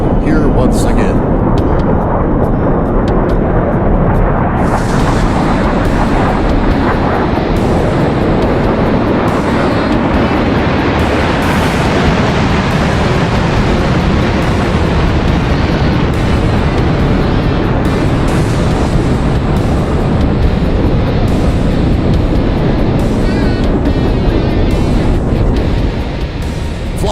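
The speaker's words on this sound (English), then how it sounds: "get ready to hear the sound of the General Electric Axial Flow J79 engines as the legend is about to return to the skies here once again" General Electric J79 axial-flow jet engines at an air show during the takeoff roll, a loud, continuous broadband roar that holds steady for the whole stretch.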